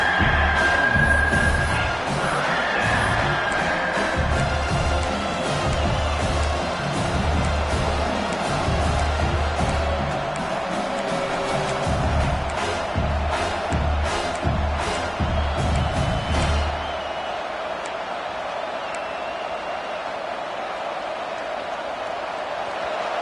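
A football stadium crowd at a Clemson versus South Carolina game roars in support of the defense on a third down, loud and sustained, then falls to a lower murmur near the end.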